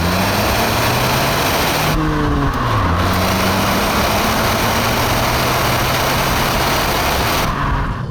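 A Kia Rio GT-Line S with a 1.0 T-GDI mild-hybrid engine accelerates at full power, giving a loud, continuous drone of engine and exhaust from inside the car that rises in pitch, drops briefly at a gear change, then climbs again.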